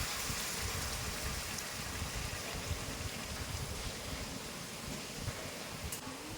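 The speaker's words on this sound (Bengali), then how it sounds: "আমি পরিমাণ মতো এবার গরম জল দিয়ে দেবো" Hot water poured into chicken curry cooking in a pot, a steady close rushing and splashing that holds evenly throughout without pause.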